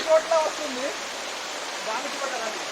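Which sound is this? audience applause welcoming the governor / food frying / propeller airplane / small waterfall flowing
small waterfall flowing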